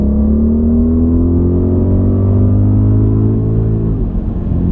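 Audi RS Q8 with its 4-litre twin-turbocharged V8 producing 592 bhp, revving loud and close with a steady rising drone that builds, then drops away near the end, with no voices.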